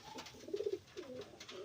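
White lakka pigeons coo with a few soft, rhythmic throaty calls in a short burst, close by and fairly quiet against light background noise.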